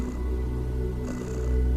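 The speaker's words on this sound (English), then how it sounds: "The cat seems affectionate and rubs against your leg." A cat purrs close by in a low, continuous rumbling drone with a faint rhythmic pulse, steady and fairly loud, with no voices.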